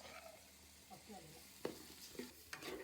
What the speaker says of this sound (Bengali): তিন কাপ চাল নিয়েছিলাম চিনি গুঁড়া চাল সেটা দিয়ে একটু ভেজে নেব